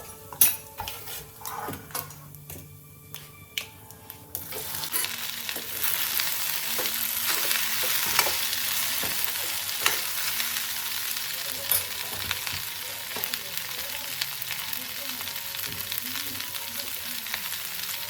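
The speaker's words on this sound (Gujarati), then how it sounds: "મેં ચાલુ કરી દીધું છે વઘાર" Tempering for an okra curry sizzles in a hot pan at home. After a few quiet seconds of small kitchen clatter, the frying bursts into a loud, steady crackling hiss with occasional stirring scrapes and no speech.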